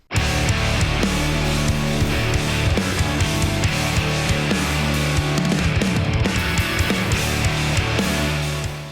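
A full band plays a dense, loud song with drums, bass and layered instruments throughout, continuous and energetic, fading slightly at the very end.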